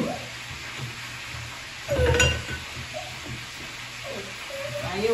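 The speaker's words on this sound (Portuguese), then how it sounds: "esse barulho aí é o fritando a carne ali, viu? Fritando uma linguiça." Sausage sizzling on a hot griddle, a constant crackling hiss close by, with a brief scrape or clatter of a utensil partway through.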